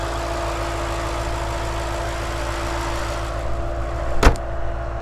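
A 2013 Porsche Panamera GTS with a 4.8-liter V8 idles smoothly and steadily with a low, even hum. A brief sharp knock near the end may be a door or window.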